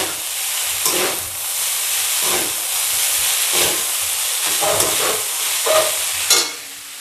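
Mixed vegetable noodles hiss loudly in a hot pan as they are tossed and stir-fried, with rhythmic bursts of sizzle and scraping as the utensil turns them over repeatedly.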